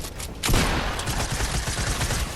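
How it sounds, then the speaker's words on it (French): Gunfire in a video game match: a dense burst of rapid shots that starts abruptly and continues as steady clattering fire, loud and close, with no talk. "il lui a mis une sacrée balle"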